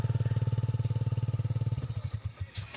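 Close, loud putter of a motorcycle with an Akrapovic exhaust, steady at first, then the engine note breaks up and fades into uneven, sputtering bursts.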